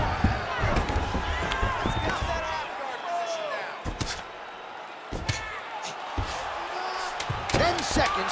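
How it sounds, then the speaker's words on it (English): Repeated heavy thuds from ground-and-pound strikes in UFC 4, landing in an irregular flurry beneath continuous commentary and faint crowd noise. "Outstanding ground and pound here, somewhat of a lost art in MMA"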